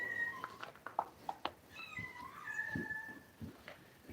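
Several cats meow repeatedly at feeding time, short plaintive cries overlapping in an uneven cluster, fairly quiet and close, with brief thumps and rustles between calls.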